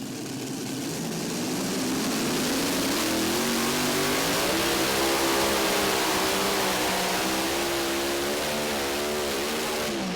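A modified tractor at a National Tractor Pulling Championships run in Bowling Green gives a loud, continuous engine roar. Its pitch climbs and wavers throughout a full pull, with no talk over it.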